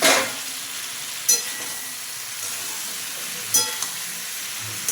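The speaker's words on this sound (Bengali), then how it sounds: "এবার দিয়ে দেবো ভেজে রাখা পটলগুলো" Fried pointed gourd (potol) being stirred into masala in a pan, with a steady soft sizzle throughout and a couple of brief scraping stirs, close and unaccompanied by talk.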